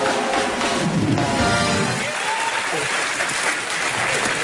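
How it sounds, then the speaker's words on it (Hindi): Studio audience on an Indian TV comedy talk show bursting into loud, dense applause that holds steady throughout, close and continuous. "जोरदार तालियां"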